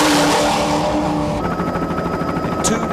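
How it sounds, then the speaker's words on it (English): An offshore racing powerboat with two V12 8-litre Lamborghini engines, from late-1980s World Championship racing at Monte Carlo, roars loudly and steadily up close, shifting into a droning, tonal engine note partway through. "two V12 8-litre Lamborghini engines in his very high-speed boat"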